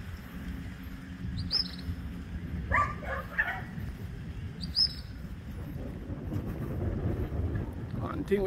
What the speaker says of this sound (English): boy, they're full of animal. Everywhere you got dogs, people.